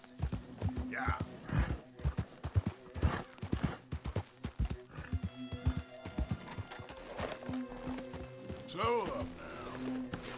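Horse hooves clip-clopping at a gallop with a whinny in Red Dead Redemption 2, loud and rhythmic, with game sounds and someone talking over parts of it.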